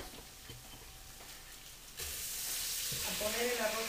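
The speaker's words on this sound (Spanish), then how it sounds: "a poner el arroz en la olla con los ajos ya dorados" Rice goes into a pot with garlic already fried golden, and after a quiet stretch a sudden loud sizzle bursts up and keeps hissing steadily, with light stirring scrapes near the end.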